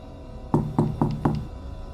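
Four firm, evenly spaced knocks on a house's front door in the middle of the night, close and loud, each rap ringing briefly before the next, with quiet before and after.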